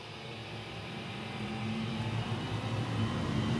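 An Oneida Air Systems dust collector in a woodworking shop starts up, its blower building into a steady, rising roar that gets a little louder over a few seconds, with no talking.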